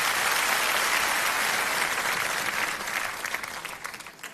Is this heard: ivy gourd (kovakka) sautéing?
no